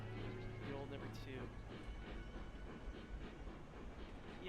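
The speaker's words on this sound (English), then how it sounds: "Let's see how well this beautiful locomotive can do." A steam locomotive in the train simulation game Railroads Online runs with a steady, rumbling chug and rail noise, a faint whistle-like tone rising briefly.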